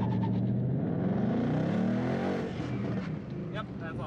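A Ford Mustang's engine is held at launch-control RPM in first gear, set near 3200, humming steadily with a slight rise and fall, while a voice talks over it.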